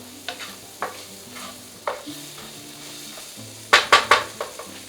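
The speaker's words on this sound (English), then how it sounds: "Just saute peas with the spices in there." Peas with spices sauté in a pan, a low sizzle running underneath while a spoon stirs and scrapes, giving sharp clinks and a quick cluster of scraping taps near the end, close by and without talking.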